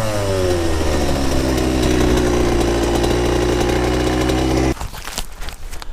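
An 85cc dirt bike engine revs hard and steadily while climbing, a loud close buzzing whine that holds for several seconds, then drops off abruptly toward the end as the throttle closes.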